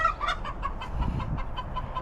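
Chickens cluck in a backyard chicken yard during morning chores, a steady run of short repeated calls with one bird noisier than the rest, fairly close and heard alone.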